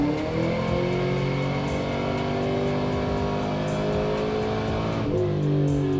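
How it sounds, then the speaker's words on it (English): A supercharged, cammed 2010 Chevrolet Camaro SS pulls hard in third gear on a dyno, its loud engine note sweeping steadily upward in pitch for several seconds with supercharger whine, then easing off near the end. "We'll try a third gear, but just a little bit higher up in RPM."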